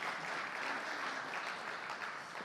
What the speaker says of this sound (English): A huge round of applause for both the lovely ladies.